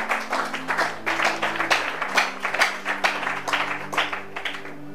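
A congregation at a Bible teaching gathering applauds and claps in praise of the Lord Jesus, a steady stretch of dense rhythmic clapping with a sustained tone running underneath.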